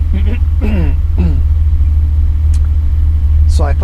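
Porsche 718 Spyder engine burbling at low revs while driving, a steady close rumble running throughout under intermittent speech.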